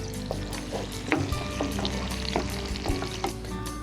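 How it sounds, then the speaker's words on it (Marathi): Onion and tomato paste sautéing in a pan, crackling and popping over a soft sizzle, with scattered clicks and scrapes of stirring, close up and without voices. "आता आपण ही कांदा आणि टोमॅटोची पेस्ट थोडीशी परतलेली आहे"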